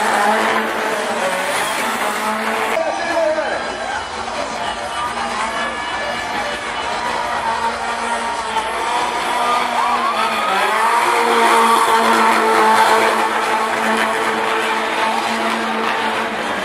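An aspirated Chevette race car running at the Brasília racetrack, its engine howling loud and steady throughout with rising and falling pitch as it works through gears and corners, with a hint of tire squeal.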